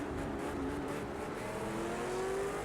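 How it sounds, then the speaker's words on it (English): Ford Falcon race car engine in the racing game Project Cars 2, a steady droning roar with a rising pitch as it accelerates, loud and continuous throughout with no voices. "And boy, these cars sound good. I know this is the Falcon"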